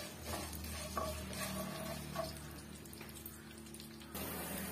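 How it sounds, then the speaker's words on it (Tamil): Chutney ingredients dry-roast in a pan over a medium flame, giving a steady soft rattle and scrape of stirring with faint crackles throughout, close and even, with no talking. "மிதமான சூட்ல வச்சு நம்ம வறுத்து எடுத்துக்கலாம்."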